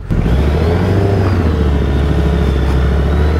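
A 2024 Suzuki Hayabusa engine in sport mode drones steadily and loudly while being ridden, a constant low rumble with whirring overtones and a slight pitch shift, heard close with no talk over it.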